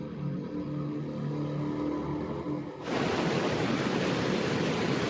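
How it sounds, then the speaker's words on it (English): Ocean waves crashing on a beach in Hawaii; after a quieter stretch of rumbling surf, a broad, loud rush of breaking water abruptly takes over and roars steadily without letup. "On a beach in Hawaii, with the waves crashing and the sun shining, Lori and Chad Daybell were finally united."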